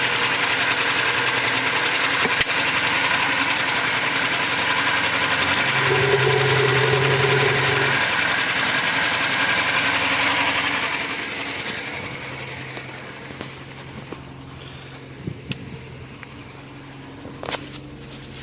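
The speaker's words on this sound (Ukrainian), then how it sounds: "моторчик робить." A small motor hums steadily at idle with a mechanical whir, then drops to a quieter running level with occasional clicks and knocks.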